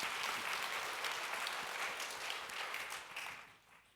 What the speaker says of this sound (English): How about another round of applause for Osman?